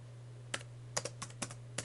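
A handful of faint, separate clicks from computer keys being pressed, quiet and close, spaced irregularly over a steady low electrical hum, with no talking.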